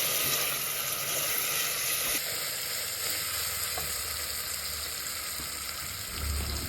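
Salted onions and chopped tomato sizzle in a pan for Gujarati biryani, a steady close frying hiss throughout with light stirring and a thin background hum.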